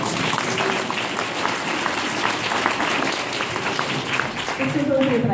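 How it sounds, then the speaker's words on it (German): An audience applauds at the opening of a school festival, with dense, sustained clapping throughout and a few voices and whistles rising near the end. "Ich werde es nochmal klatschen."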